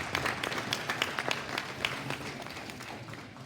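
A crowd at a cattle show applauds a champion heifer, a steady, fairly distant patter of many hands with a few sharper claps, slowly tapering off over several seconds.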